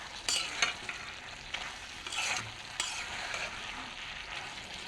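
A spatula scrapes and stirs a vegetable filling for singara in a hot pan, with a soft steady sizzle under irregular scraping strokes, close by and with no one talking.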